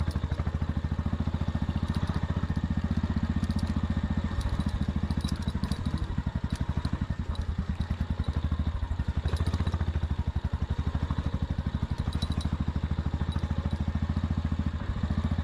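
A motorcycle ridden over snowy Sela Pass near Tawang in Northeast India, its engine thrumming loud and steady throughout with a rapid, even pulse and constant wind-like rush.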